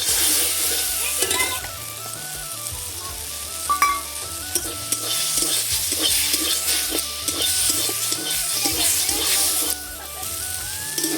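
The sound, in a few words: fried shrimp added to sizzling pan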